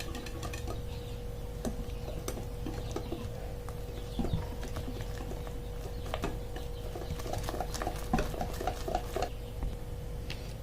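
Cake batter stirred by hand in a bowl for a chilled summer cake, flour having just been sifted in: steady irregular scraping and tapping strokes throughout, fairly faint, with a constant background hum and no talk.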